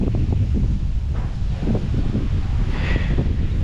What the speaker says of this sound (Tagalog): lakas ang hangin ngayon